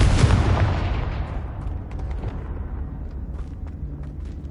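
A deep booming explosion from the Confringo spell in a PS4 game, a loud low blast at the start that rolls and rumbles away over several seconds, with faint crackling debris in the tail.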